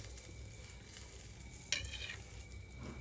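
Heated butter is poured over food, sparking a soft sizzle after a sudden splash about midway, the frying hiss staying faint and low without voices.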